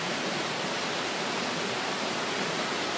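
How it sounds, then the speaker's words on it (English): A camp stove burner flame roars in a steady, even hiss with no change, quiet and constant throughout at a campsite. "Once this cools down, it goes to a nice blue flame instead of a roasting fire."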